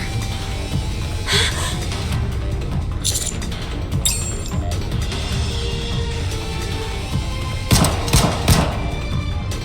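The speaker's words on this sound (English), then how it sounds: "How many shots is she going to fire? Wait! Stop shooting!" Gunfire from the Goddess of Victory: Nikke video game crackles in repeated bursts over a steady low hum, with sharper shots standing out around the middle and a louder cluster near the end.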